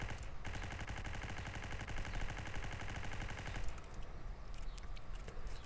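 Gunfire from zombie mode in the mobile shooter Block Strike: a dense, steady stream of rapid automatic shots that runs without a break, then thins to a few scattered shots near the end.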